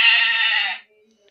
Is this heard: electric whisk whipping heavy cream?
no